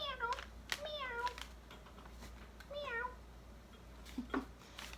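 A person's voice imitates a cat's meow for a puppet, giving several drawn-out mewing calls in a row, moderately close over a quiet room hiss, with a few soft breathy sounds near the end.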